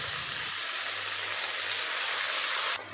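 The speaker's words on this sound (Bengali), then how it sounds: "এখন দিয়ে দেবো কেটে রাখা শাক।" Chopped spinach hits a hot wok and sets off a loud, continuous hissing sizzle up close, holding steady before dropping off sharply near the end.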